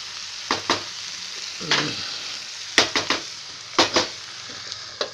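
Cabbage (bandha gobi) sabzi with dry roasted spices cooking in a pan on medium flame, a steady soft sizzle broken by short clattering bursts of stirring, close and alone without talk.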